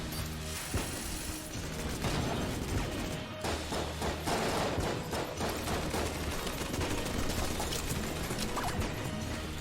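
Rapid mechanical clattering gunfire from the Heck Blaster in Enter the Gungeon, a dense continuous barrage of ratcheting shots with crashing impacts, loud throughout with no talking.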